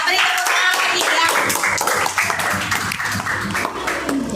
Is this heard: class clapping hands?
yes